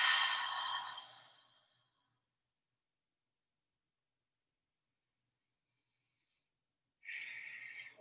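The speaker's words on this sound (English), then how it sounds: "Take a couple breaths. Breathe in the light." Slow, deep breaths in a children's yoga class, one long airy exhale that fades out, several seconds of silence, then another breath starting close to the microphone.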